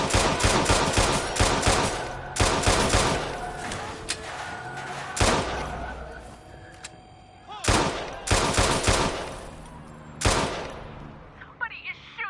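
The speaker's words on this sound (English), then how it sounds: "Somebody is shooting down here." Bursts of gunfire in the Watch Dogs 2 video game, loud volleys of rapid shots in several separate clusters with short gaps of quieter ambience between them.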